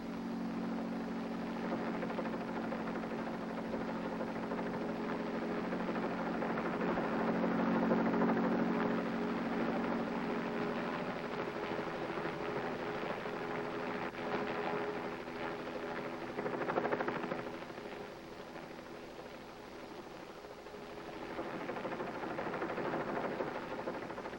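A helicopter flies during a stunt shoot, giving a steady, fairly faint rotor and engine drone with a slight swell in the middle, alone with no voices.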